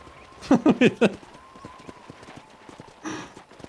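Horse hooves clip-clop in a quick burst of four loud, close steps in the Red Dead Redemption video game, followed by quieter trailing hoofbeats and a brief scuffing rustle.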